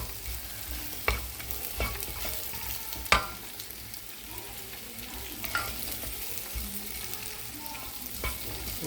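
Chopped onion sautéing for salmon fish manchurian, a steady soft sizzle in a pan with occasional clinks and scrapes of a stirring spoon, close and fairly quiet.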